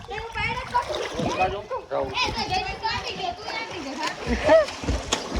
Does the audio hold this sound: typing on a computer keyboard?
no